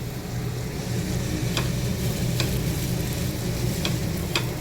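Semai vermicelli frying in a pan gives a steady, close sizzle throughout, with a few sharp utensil clicks from stirring near the end and no voices.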